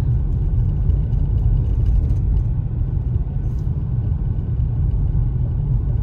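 Low, steady rumble of a car driving on a road into a wildfire evacuation zone near Big Bear, California, heard from inside the vehicle with a constant engine and road drone and no talking.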